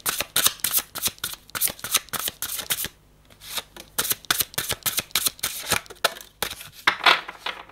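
Tarot cards being shuffled by hand, a rapid series of crisp riffling bursts with a brief pause midway, close and fairly loud, with no talking.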